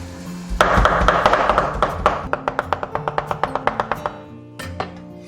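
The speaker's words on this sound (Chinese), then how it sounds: "剁肉馅的话还是要自己剁" A cleaver chops meat into mince by hand for dumpling filling, with a fast, steady run of sharp, close knocks on a board that slows and stops with a couple of last taps.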